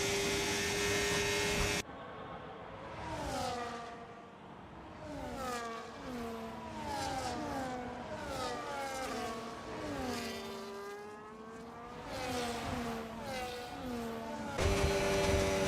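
Race cars roar through a Belgian Grand Prix sprint in a racing video game, engines revving and pitching up and down as several cars pass in a close train, with a loud, continuous drone throughout.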